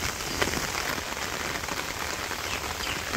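Heavy rain pours in an even, unbroken hiss, loud and close, with no voices.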